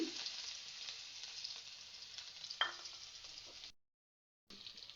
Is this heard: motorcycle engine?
no